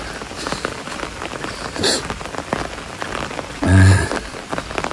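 Heavy rain pours down steadily during an overnight-to-morning downpour, a dense, continuous hiss of drops drumming on surfaces, with a couple of louder swells. No one speaks.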